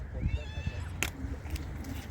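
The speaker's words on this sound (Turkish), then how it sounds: "Kedilerin kavgası." Two cats fight over a fish at a fishing spot, with a drawn-out wavering yowl near the start and harsh bursts of squalling afterwards, heard close over a background rumble.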